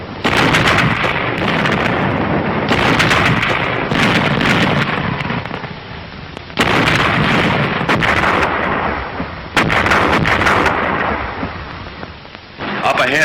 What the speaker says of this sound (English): the infantry watched the smoke and bursts of the barrage